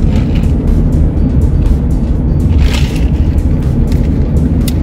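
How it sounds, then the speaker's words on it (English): Road traffic passing in Orlando, Florida, heard from inside a car: a loud, continuous low rumble of vehicles and wind with occasional swells as cars go by, no talk. "Man, this traffic's picking up today."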